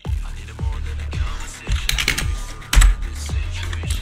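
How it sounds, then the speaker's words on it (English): One-handed typing on a computer keyboard, a slow irregular series of close, distinct key clicks with a louder clack near the end, no speech. "Typing with one hand on the keys because the other hand's got chip dust on it."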